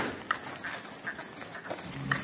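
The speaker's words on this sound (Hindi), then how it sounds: "आप में से बहुत से कम लोगों ने देखा होगा ऐसा घोड़ी को नाचते हुए, ये देखो" A dancing mare's hooves clip-clop on the ground beside a wooden cot, giving a string of uneven, close thuds over a faint background murmur.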